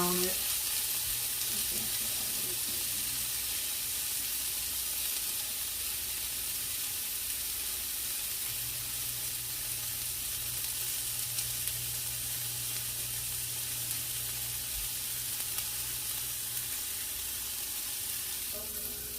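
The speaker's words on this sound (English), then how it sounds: "So I got this sauteed." Snap peas are sautéed in a pan, sizzling in a steady, loud hiss that lasts throughout, with faint occasional stirring underneath and no talk.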